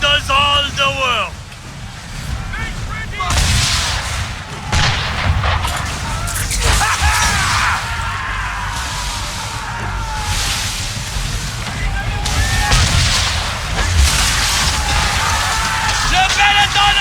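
Ship cannons boom repeatedly during an Assassin's Creed III naval battle, loud blasts over rumbling water and combat noise, with voices speaking over the action.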